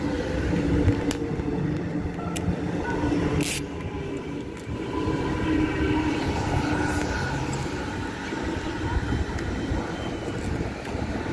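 A Melbourne suburban train passes close by with a steady broadband rumble and rail clatter that holds for about eleven seconds, marked by a few sharp metallic ticks and squeals.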